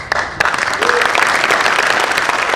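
A crowd applauds at an Independence Day patriotic poetry recital in Jaipur, steady dense clapping that begins with a few sharp claps and then holds loud and even for a couple of seconds.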